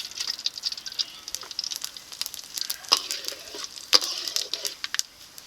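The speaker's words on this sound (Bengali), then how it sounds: "দিয়েছি গোটা গরম মশলা গোটা জিরে ও কিছু গোলমরিচ" Whole garam masala, cumin seeds and black peppercorns frying in hot oil in a kadai, a light sizzle broken by scattered crisp pops and a couple of sharper cracks.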